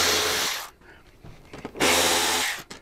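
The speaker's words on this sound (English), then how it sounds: "We're gonna take the outside screws out first." Power tool whirring broadband as Torx 27 screws come out of a motorcycle windshield, two bursts of roughly a second each separated by a quieter gap with small clicks and handling noises.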